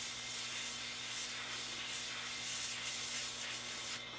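Compressed air hisses steadily to blow sanding dust off a mini wooden bat, a soft, even spray lasting a few seconds before cutting off.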